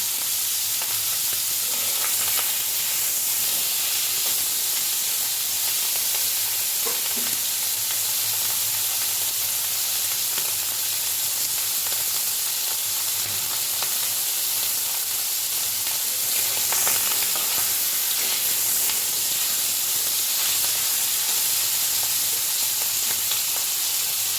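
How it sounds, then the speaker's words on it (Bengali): Whole fresh tengra fish frying lightly in oil, a continuous close sizzle and crackle with occasional spatters, steady throughout without any talk. "জ্যান্ত ট্যাংরা মাছ তো বেশি কড়া করে ভাজবো না, হালকা করেই ভাজবো।"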